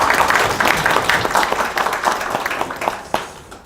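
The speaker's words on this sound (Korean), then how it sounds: "박수로 맞이해주시죠." A town hall audience applauds to welcome the speaker, with dense clapping that is strong at first and gradually thins out as individual claps become audible.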